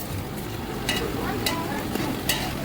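Food fries in a pan during home cooking, giving a steady close sizzle broken by a few sharp stirring scrapes spaced about half a second apart.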